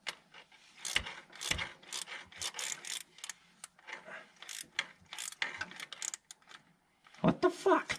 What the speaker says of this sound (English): Fucking ratchet wants to keep changing directions on me.